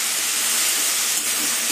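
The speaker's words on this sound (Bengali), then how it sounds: "রসুনের কাঁচা গন্ধ চলে গেছে, এবার আদা বাটা দিয়ে দেবো।" Ginger paste hits hot oil in a cooking pan, giving a steady, loud, continuous sizzle and hiss with no talking.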